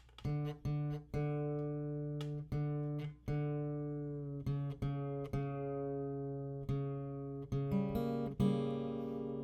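A guitar chord is strummed repeatedly with one string tuned down, ringing out with a slightly sour, out-of-tune quality, close and clear with no talking.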